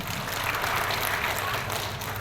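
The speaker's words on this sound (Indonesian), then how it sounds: "Tepuk tangan sekali lagi." Church congregation claps during an Indonesian sermon in a short, dense burst of applause, steady and fairly loud for about two seconds with no voices over it.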